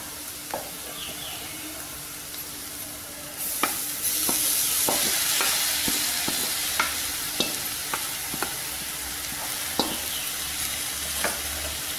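Poha being stirred in a frying pan for aval upma with spices, peanuts and curry masala, soft scraping and sizzling with sharp spoon knocks against the pan at irregular intervals, close and fairly quiet.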